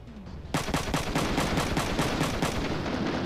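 Rapid automatic gunfire bursts out suddenly in the Front Mission 3 mech strategy game, a dense, loud, evenly pulsing volley of shots that continues without pause.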